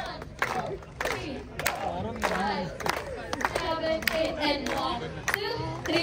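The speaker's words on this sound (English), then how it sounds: "Clap." Staff party in the desert in Dubai, a crowd clapping along in repeated bursts amid cheering and loud talk, with shouts and voices over the clapping throughout.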